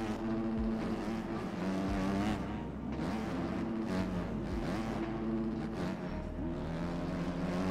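Several Suzuki dirt bike engines race in the MX Bikes game, buzzing and revving at a fairly low level with rising and falling pitch as the bikes accelerate and shift.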